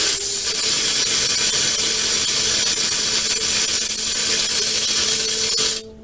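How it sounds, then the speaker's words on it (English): A large air compressor blows air hard through the water lines of a 2017 Forest River Puma RV during winterizing, a loud, steady hissing rush that cuts off abruptly near the end. "Crazy Dave has a big enough compressor we can play with air all day"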